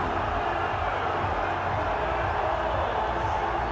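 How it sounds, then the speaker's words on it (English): Stadium crowd at an India vs Pakistan T20 World Cup cricket match: a steady, broad roar of cheering fans, even and sustained the whole time, heard from within the ground without any single voice standing out. "The crowd are going absolutely wild here."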